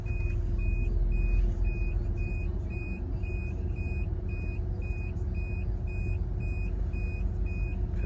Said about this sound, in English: That beeping is from the conversion, so don't freak out.